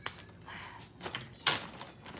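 A drawer full of crayons being opened at home: a few sliding scrapes and dull knocks, with a sharper clunk near the end, fairly close and with no voices.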